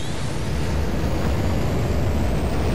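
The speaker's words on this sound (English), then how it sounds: "Shark nitrous hit!" Nitrous boost firing on a Vauxhall Monaro VXR in Need For Speed World, a loud, steady rushing roar of engine and air that holds without a break for about three seconds, with no talking.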